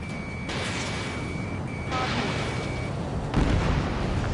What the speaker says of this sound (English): The enemy's using anti-air weapons.